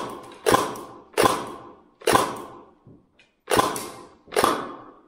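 Novritsch SSR90 Gen2 airsoft sniper rifle firing: five sharp, close snapping shots spaced under a second apart, each with a short fading tail, with a brief pause before the last two.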